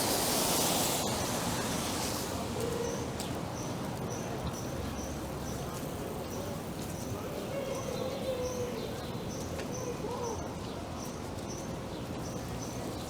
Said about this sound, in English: It's nice to hear the birds chirping.